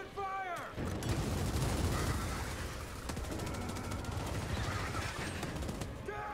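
Dense, continuous bursts of gunfire and explosions in Gears of War 5 during a boss fight against flying enemies rumble throughout, loud and chaotic, with a brief voice at the start.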